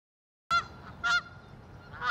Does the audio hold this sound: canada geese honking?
yes